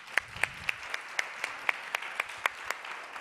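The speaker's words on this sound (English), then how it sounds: "are all worthy an applause and an extra applause" A conference audience at a health summit plenary session applauds with sparse, distinct claps at a slow, fairly regular rhythm, moderately loud, with no speech over it.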